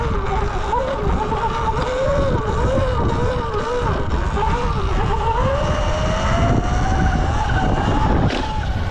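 A Sur-Ron electric dirt bike held in a slow wheelie gives off a continuous electric motor whine that wavers and climbs gradually, over tire and wind noise, loud and close.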